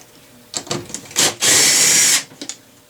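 Power driver whirring briefly while removing an 8mm bolt from a 2022 Ford Escape front door panel, a few short spurts and then one longer close, loud run, followed by small clicks.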